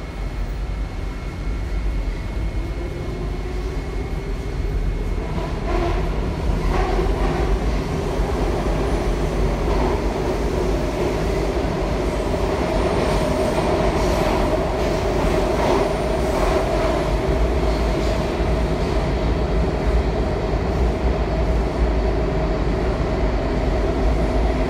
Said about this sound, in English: This train does have a little bit of a braking issue as it's leaving.